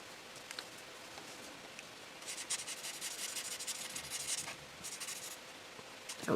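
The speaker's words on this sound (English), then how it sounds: "with the E59, I'm just going to go over the underside layer of the pine cone" A Copic E59 marker rubs across a paper pine cone on a handmade Christmas card, making a steady, close, dry scratching that grows busier in quick back-and-forth strokes.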